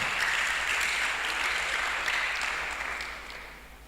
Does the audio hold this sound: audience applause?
yes